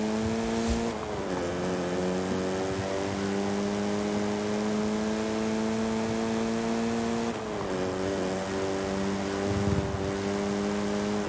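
A car engine droning steadily in a driving video game as the car slides and drifts, its pitch dipping briefly twice before climbing back to a loud, continuous whine.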